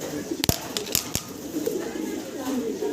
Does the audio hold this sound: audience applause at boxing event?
no